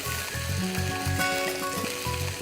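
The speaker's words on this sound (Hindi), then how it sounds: "हल्का सा इसे और भून लीजिए।" Chopped greens for sabzi qorma sizzle steadily as they are sautéed in a pan, a continuous soft crackle with no voices over it.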